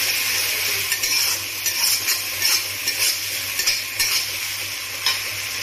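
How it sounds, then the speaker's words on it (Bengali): Onion paste frying in a pan while being stirred, a constant close sizzle punctuated by repeated soft scraping strokes of the spoon against the pan, with no talking. "4-5 মিনিট নাড়াচাড়া করব"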